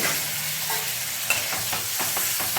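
Masala for a chicken and potato curry frying with a splash of water, a dense close sizzle with a few quick spatula scrapes toward the end.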